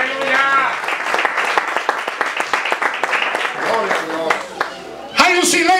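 During a church sermon, a congregation claps in a quick, rhythmic patter alongside raised voices, the claps sharp and close before a louder vocal surge near the end.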